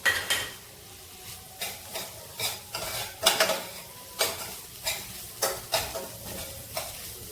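Fish momo filling being stirred with masala in a pan: rhythmic scraping strokes of a utensil against the pan, about a dozen in steady succession, over a soft sizzle, close and without talk.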